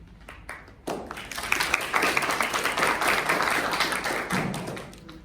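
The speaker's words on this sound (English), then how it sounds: "Let's give her a round of applause." At the launch of Dr Padmini Howpage's book 7 Magic Minutes for Today, the audience bursts into applause for the author. Lively, close clapping swells after a brief pause, holds steady for several seconds, then tapers off.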